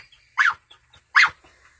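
Two quick, sharp dog barks come nearly a second apart. They sound moderately quiet against a calm background with no talking.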